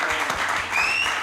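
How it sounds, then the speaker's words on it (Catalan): Brief burst of audience applause during a Catalan podcast recording, a short patter of clapping with a faint tonal whistle in the background. "Un aplaudiment per la Laura Grau, sisplau."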